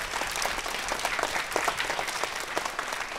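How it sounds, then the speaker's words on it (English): An audience applauds the AV crew at a spring school concert, steady dense clapping filling the room from start to finish at a fairly even level. "Let's give them a big round of applause"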